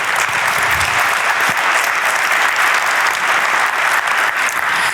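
A conference audience at a banking and finance forum claps loudly and continuously, a dense, steady wash of applause filling the room from start to finish.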